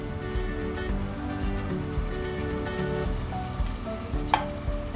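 Food sizzles steadily in a hot pan as ingredients are sautéed and stirred, a continuous close crackle with occasional utensil clinks.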